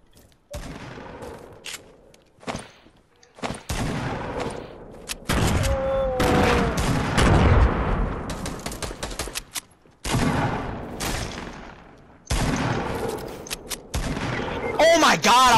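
Gunfire in the video game Fortnite, with bursts of shots and impacts that start and stop across the clip, loud and close, mixed with other game sounds and a voice talking.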